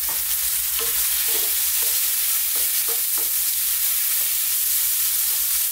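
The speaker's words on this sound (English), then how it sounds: "let's throw this around in the pan for like 2 to 3 minutes only, stirring all the time" Finely chopped red onion stir-fried in a pan on high heat, a loud continuous sizzle punctuated by repeated scraping stir strokes, close and with no talking.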